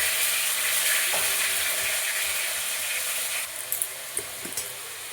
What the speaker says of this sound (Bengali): এবার আমি এটা নাড়াচাড়া করবো